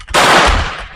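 A VZ52 rifle fires a single loud, sharp shot during a function test, its blast filling the brief moment at close range with no talk.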